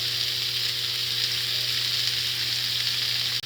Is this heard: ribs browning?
yes